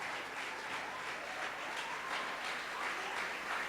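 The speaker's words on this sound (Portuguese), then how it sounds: "Pode aplaudir Jesus, queridos." A church congregation at a Sunday service keeps up soft, steady applause, a diffuse and fairly distant patter of hands lasting the whole stretch.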